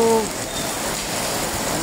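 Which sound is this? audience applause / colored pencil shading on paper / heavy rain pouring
heavy rain pouring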